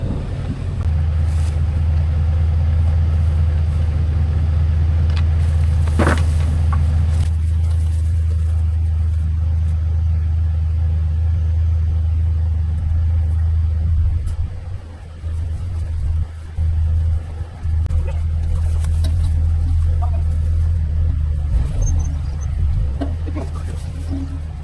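A vehicle engine idling in a video game, a loud, steady low rumble with broadband noise, briefly dipping and stuttering midway before resuming its drone.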